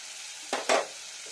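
Cumin paste fries in hot oil for a potato and pointed gourd curry, a faint sizzle broken by two quick loud scrapes of a spatula.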